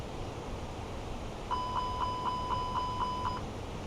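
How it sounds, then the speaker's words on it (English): Engine fire test alarm in the Fenix A320 cockpit of MSFS 2020, a rapid, evenly spaced series of about eight bright electronic rings at steady loudness over a faint background hum. "It should light up in red, and you should get a ringing noise as you just heard"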